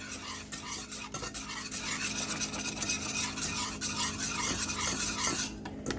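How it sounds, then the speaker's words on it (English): Spoon stirring a strawberry Jello mixture in a bowl, a steady scraping swirl with light clinks against the sides, close and continuous throughout, with no talk. "Give that a good stir."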